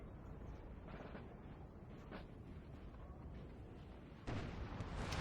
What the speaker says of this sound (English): And some French artillery has been brought up at last to bring some supporting fire.